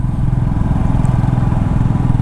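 Motorcycle ridden slowly over snow on the mountain road to Auli via Joshimath, tires slipping; a steady, loud engine drone with dense low rumble throughout, no voices.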